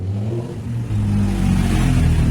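A motorcycle pulls up near a garage and revs, its engine a steady, loud low drone that swells and climbs after the first second, with no talking.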